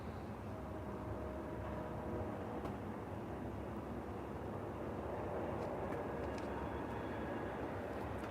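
A train passes far off at night, a steady low rumble that holds evenly throughout with faint higher tones drifting above it, no voices present.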